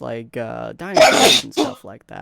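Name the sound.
sneeze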